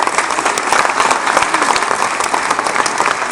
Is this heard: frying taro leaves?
no